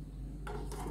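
A lid goes onto a preheated kadai holding a cake tin, making two faint, quick metallic clinks against a quiet background hum.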